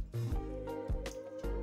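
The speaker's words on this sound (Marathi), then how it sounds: "चमच्याने आपण हे छान स्मॅश करून घेऊया।" Cooked pumpkin mixture being mashed with a spoon for crisp pumpkin fritters, giving a few close, wet squishing strokes against a steady low background hum.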